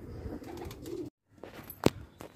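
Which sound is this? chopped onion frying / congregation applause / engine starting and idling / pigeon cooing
pigeon cooing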